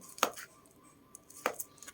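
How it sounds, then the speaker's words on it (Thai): Two crisp knife strokes cut through black-pepper pork sausage on a board before frying, each a short, quiet chop about a second apart in an otherwise still kitchen. "จะหั่นแบบนี้ไปทอด"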